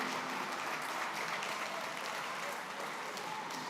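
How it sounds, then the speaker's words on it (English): A gala crowd at a community center claps in a continuous, moderately faint round of applause that fills the room evenly for a few seconds, with some murmured voices mixed in. "How about another round of applause for T. Michael for just winging it,"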